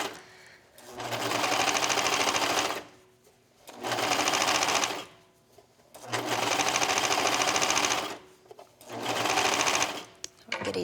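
Sewing machine stitching the hem of leggings, running in four long steady bursts with short pauses between, loud and close with a constant whirring buzz.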